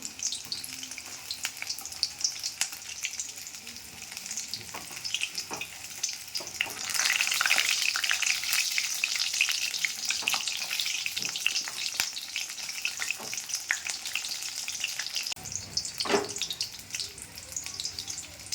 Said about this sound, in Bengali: এটাকে ডিপ ফ্রাই করে ভাজতে হবে, তাই তেলটা একটু বেশি দিতে হবে